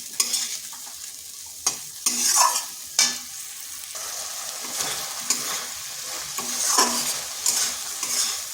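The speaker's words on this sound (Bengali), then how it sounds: "এই কচুগুলো মশলার সাথে বেশ কিছুক্ষণ কষে নিতে হবে" Taro chunks stir-fried with spices in a pan give a steady sizzle under sharp, irregular scrapes and clacks of a spatula against the metal, several louder strokes spaced a second or so apart, with no talking.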